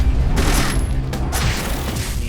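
Sustained machine gun fire from military enemies in the side-scrolling game The Dishwasher: Vampire Smile, a dense, continuous loud burst of rapid shots that stays level for about two seconds with no talking.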